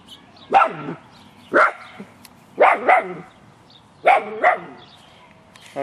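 A dog barks nearby in short bursts, single and doubled barks spaced about a second apart, loud against a quiet background.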